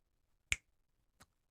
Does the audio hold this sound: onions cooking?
no